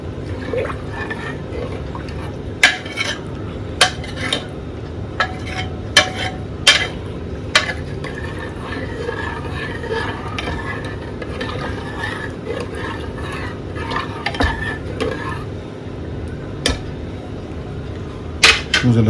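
Dal khichdi mixture being stirred in a pot, with repeated sharp clinks of a spoon against the metal and a wet, sloshing texture running steadily underneath, close and fairly loud.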